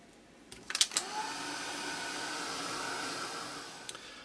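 A heat tool blows steadily over an art journal page, an even close whooshing hiss lasting several seconds after a few short clicks and knocks as it starts.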